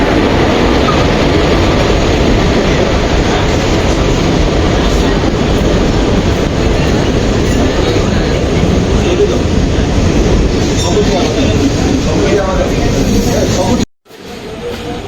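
A train pulls into a station in Puri, India, its loud steady rumble and rolling wheel noise filling the scene without pause before cutting off abruptly near the end.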